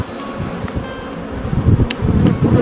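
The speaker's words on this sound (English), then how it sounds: "So there's a bee on the camera." Honeybees buzz at a hive during an autumn inspection, a dense close drone with rustling handling sounds and brief louder passes near the microphone.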